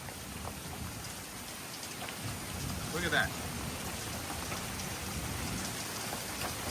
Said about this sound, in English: it's bad hail